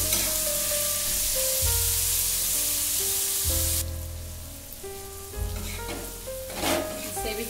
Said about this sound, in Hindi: और इसे भी गैस के हाई फ्लेम पर ही फ्राई करेंगे।